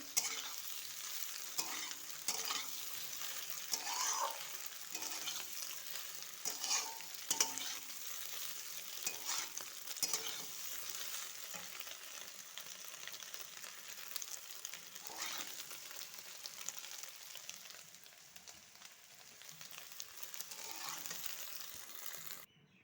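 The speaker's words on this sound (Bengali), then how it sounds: "এদিকে সুন্দরভাবে সোয়াবিনও ভাজা হয়ে গেছে" Soybean chunks frying in oil in a pan give a steady, soft sizzle with faint crackles and occasional stirring scrapes, alone and fairly quiet throughout.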